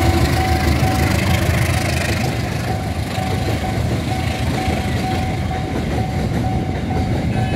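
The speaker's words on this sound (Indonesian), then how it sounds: "Wah, gerbong datar." A train of flat wagons rumbles past a level crossing, loud and close, with constant rolling clatter and a steady warning bell tone ringing underneath.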